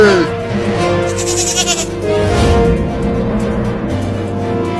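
A goat bleats loudly and repeatedly, its wavering cries rising over a steady background hum, with no other voices present.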